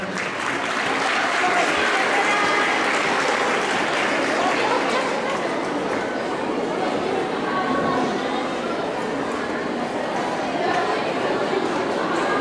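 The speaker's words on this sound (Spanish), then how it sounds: "Un gran aplauso, por favor." Sustained audience applause for a school group's dance performance at a Chilean folk festival, dense and even throughout, with crowd chatter mixed in.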